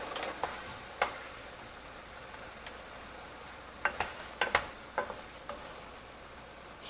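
Sloppy joe meat, sweetened and dusted with chili powder, is spread and stirred in a pan, with sparse utensil taps over a faint steady sizzle that cluster into a quick run of scrapes near the end.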